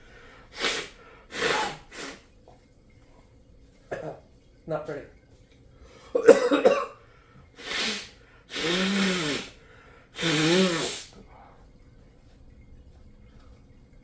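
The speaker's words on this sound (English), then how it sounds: "I can blow my nose now." Several loud, breathy nose blows and snorts in bursts, close up, with a short spoken remark in between.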